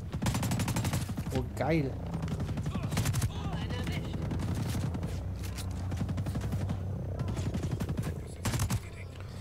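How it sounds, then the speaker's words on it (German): Sniper rifle with an automatic machine-gun mode fires in the video game Ghost Recon Breakpoint, loud rapid bursts over game noise, with someone speaking briefly and reacting. "Scharfschütze mit Weitschuss, mit Maschinengewehrfunktion."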